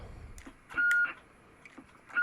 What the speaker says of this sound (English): That's the high beep. I much prefer the high beep.